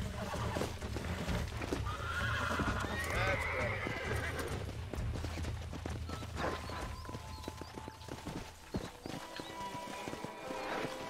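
Horse in the Red Dead Redemption video game whinnies and whickers over steady clip-clopping hooves on dry ground, with continuous outdoor ambience underneath.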